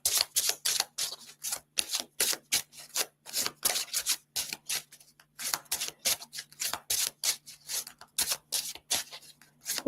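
A deck of reading cards is shuffled by hand in quick, rhythmic papery riffles and rubs, repeating steadily and close up in a quiet room.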